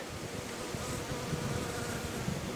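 Honeybee buzzing near a hive, close and steady, a continuous drone with small wavering swells in pitch and loudness and no talking.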